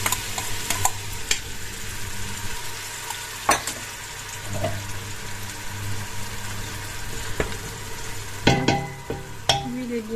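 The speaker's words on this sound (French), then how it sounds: "Une fois l'huile bien chaude, j'ajoute ma préparation." Vegetables hit hot oil in a pressure cooker and sizzle steadily at moderate volume, with scattered sharp clicks and scraping knocks of a utensil stirring through.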